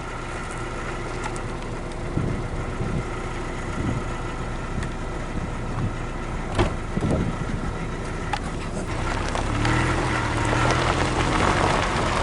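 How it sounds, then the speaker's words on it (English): Inside a Subaru driving around a campground at Haystack Mountain near Roswell, New Mexico. A low engine hum and road rumble run continuously, with scattered patter and bumps that grow rougher toward the end. "going to hop into the Subaru here, and we're going to drive around the campground"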